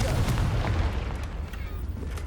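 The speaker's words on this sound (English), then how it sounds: "Confringo." A Confringo fire spell from Hogwarts Legacy bursts in a quick, booming blast with a few crackling pops trailing off over a couple of seconds.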